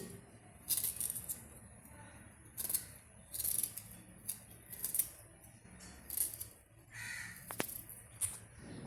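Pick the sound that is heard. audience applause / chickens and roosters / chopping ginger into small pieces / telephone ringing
chopping ginger into small pieces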